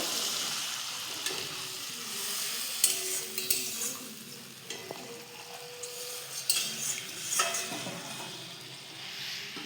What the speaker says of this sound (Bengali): আমি এবার পরিমাণ মতো একটু জল দিয়ে দেবো।